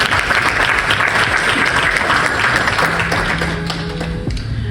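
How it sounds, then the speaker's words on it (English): Dense audience applause fills a law clinic plan launch event, steady and loud throughout, with a faint tonal hum appearing near the end. "I think this deserves a hand of applause."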